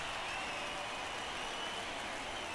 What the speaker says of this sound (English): the fans are cheering for a reason